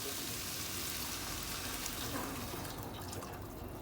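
Water pours into a pot of lentils, a steady close rush of liquid that continues without pause and softens slightly toward the end.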